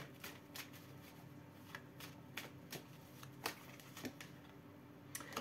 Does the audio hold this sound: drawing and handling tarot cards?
yes